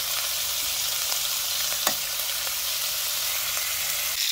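Short-cut pork ribs frying in hot avocado oil in a small pan give off a steady, dense sizzle with faint occasional pops, close and even throughout, with no talking.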